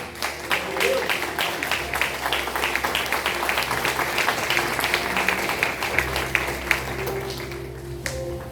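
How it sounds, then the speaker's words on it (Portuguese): A church congregation applauds with steady, sustained clapping from many hands that fills the room for several seconds, with a voice speaking over it. "Fique sobre seus pés. Aplauda o Senhor."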